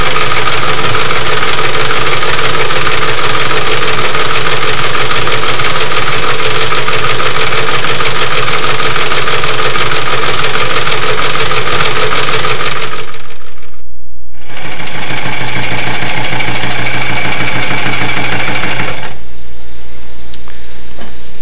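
A small-scale live steam model locomotive with Walschaerts valve gear runs with a steady, busy mechanical chuffing and hiss. It cuts out briefly about two-thirds through, then resumes before fading to a low hum.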